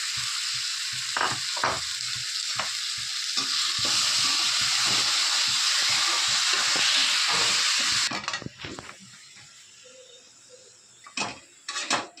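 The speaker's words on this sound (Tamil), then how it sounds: "நம்ம எடுத்து வச்ச ஈரலை போட்டு கொஞ்சம் வர வதக்கி வைக்கணும்" Goat liver and onions sautéing, a strong, continuous sizzle with bursts of stirring scrapes that cuts off sharply partway, leaving quieter clinks and scattered knocks, close and with no speech.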